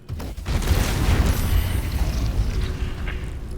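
A fire spell bursts in Baldur's Gate 3, a loud roaring boom that swells quickly and rumbles on with a crackling, rushing body before easing slightly, heard alone without talk.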